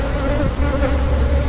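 Honeybees busy in a working hive of frames built for comb honey, a dense, loud, continuous buzzing hum heard up close, with no talking.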